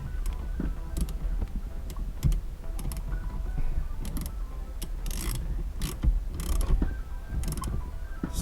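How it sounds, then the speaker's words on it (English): Ratchet clicking as a nut is tightened onto a steering wheel, quick bursts of sharp metallic ratcheting strokes separated by short pauses, close and fairly quiet. "Take a ratchet."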